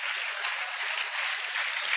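Continuous crowd clapping for a teacher honored at a Class X achievers' ceremony, even and unbroken, a full room of applause heard on its own.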